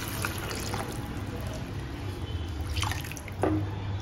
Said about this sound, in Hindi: भर के 3 कप पानी डाल देंगे इसमें।